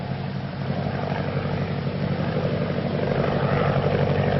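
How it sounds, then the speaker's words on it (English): A propeller plane flies overhead with a steady, droning engine roar that grows slightly louder as it approaches, with no voices. "It's a plane, maybe from 3 Point."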